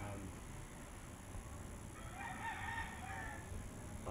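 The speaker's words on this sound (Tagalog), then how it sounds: "papatuka muna tayo ng manok." Chickens and a rooster at feeding time, with faint, distant crowing and clucking over a steady low background hum.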